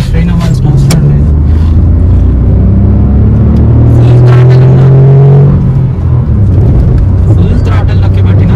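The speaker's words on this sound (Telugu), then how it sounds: "ఫుల్ థ్రాటల్ నొక్కి పట్టినా చూడండి 80 వచ్చింది" Toyota Taisor accelerating at full throttle, heard from inside the cabin: a loud engine drone rising steadily in pitch as the car gains speed, with a gear change partway through and road rumble underneath, alongside someone talking.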